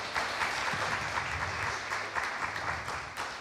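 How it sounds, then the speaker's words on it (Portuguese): A church congregation claps during a celebration service, giving dense, continuous applause at a fairly even level from start to finish, with no talking over it. "a igreja, uma salva de palmas."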